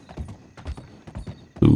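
Horse hooves in Red Dead Online clip-clop in a loose, uneven rhythm of close, dull thuds, ending in a sudden loud burst of noise.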